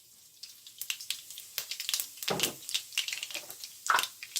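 Mustard seeds and fennel crackle and sizzle in hot oil, a dense run of sharp pops and spits with a steady frying hiss underneath, close and fairly loud with no talking.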